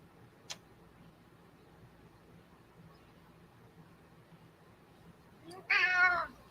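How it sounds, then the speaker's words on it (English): A cat lets out a single loud meow near the end, after a stretch of near silence broken by a faint click. "Meow."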